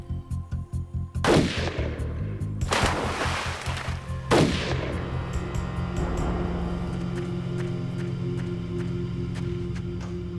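Three loud rifle shots ring out, widely spaced, each with a sharp crack and echoing tail, over a steady low engine-like rumble.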